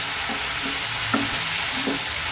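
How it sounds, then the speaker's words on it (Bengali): Spiced cauliflower fries in a pan and is stirred, giving a steady sizzle broken by a few scraping stirs of the utensil, heard close with no talking. "মশলা এবং ফুলকপি ভালো করে নেড়ে চেড়ে মিশিয়ে দিচ্ছি।"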